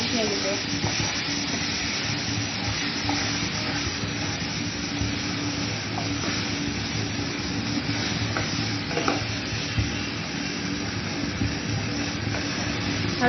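Shredded cabbage sizzling in a hot pan for Bengali-style cabbage ghonto while it is stirred, giving a steady, close, continuous frying hiss with soft stirring scrapes throughout.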